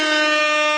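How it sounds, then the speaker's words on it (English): A single sustained air horn blast, loud and steady with a rich stack of harmonics, sounding alone for under a second. "Hit the air horn."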